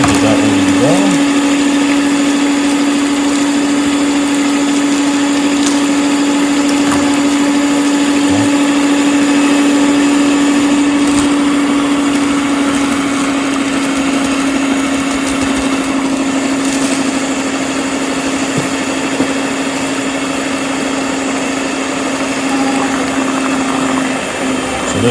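An electric mixer beating white cake batter liquids gives a loud, steady high-pitched motor whine that holds the same pitch throughout, with a voice talking faintly underneath.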